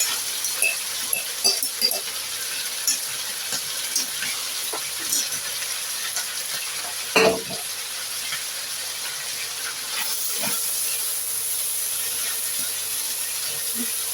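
Chopped parboiled liver and gizzard sizzle and hiss steadily in a frying pan while fried rice is cooked, with a sharp spit and crackle near the middle and the frying growing louder toward the end.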